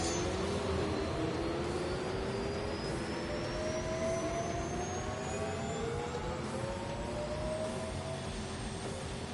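A Rimac electric hypercar launching in thrust mode in The Grand Tour video game, a loud continuous whine that rises steadily in pitch for about nine seconds, with no talking.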